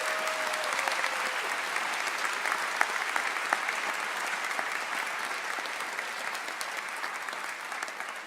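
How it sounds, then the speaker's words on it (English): A convocation audience applauds in a hall, sustained dense clapping from many hands that holds steady and then eases slightly toward the end. "Let's give all of those individuals a round of applause"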